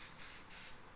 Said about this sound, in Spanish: vamos a ponerle un poquito de spray